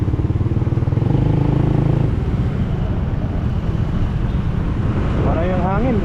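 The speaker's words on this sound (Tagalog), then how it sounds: "Para yung hangin, grabe" Strong wind buffets the microphone during a rainy road trip to Tagaytay, a loud, steady roar with engine hum underneath, and a voice speaks near the end.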